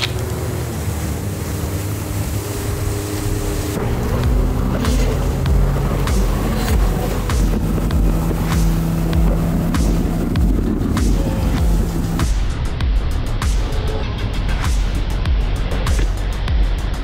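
A jet ski engine runs steadily on the open ocean, a continuous droning motor with wind and splashing water throughout, loud and close for the whole stretch.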